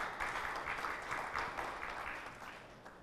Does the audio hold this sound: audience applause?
yes